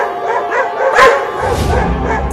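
Two cartoon dogs bark and yip loudly, close and excited, with one sharp bark standing out in the middle and whimpering yelps around it.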